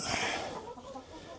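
Chickens clucking close by near a feed bucket, a brief burst of rough clucks that fades over about a second.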